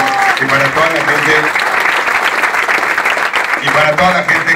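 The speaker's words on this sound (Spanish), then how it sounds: "un aplauso nuevamente" A crowd claps steadily at the opening of a venue, dense sustained applause with music and a voice over it throughout, loud and close.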